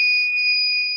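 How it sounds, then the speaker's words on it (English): A steady electronic alarm tone sounds continuously at a case charging station, a clear pure beep held for the full second, loud and alone. "we want to hear the alarm sound now."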